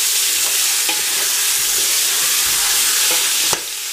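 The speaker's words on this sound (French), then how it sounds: "Je vais faire revenir un petit peu ma viande, très rapidement." Meat browning quickly in a hot pan for Tunisian bsal ou loubia, with a loud, steady sizzle and frying hiss throughout, broken by occasional soft clicks and scrapes of stirring.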